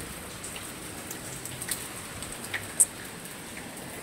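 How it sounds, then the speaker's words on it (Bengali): Rain falls steadily outside at night, a constant even patter with a few sharper drops ticking close by. "আর এদিকে বৃষ্টি হচ্ছে"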